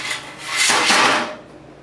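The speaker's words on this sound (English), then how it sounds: "We'll start off this morning sharpening scrapers." A woodturning scraper is sharpened with a single close, harsh rasping stroke that swells and fades over about two seconds, with no talk.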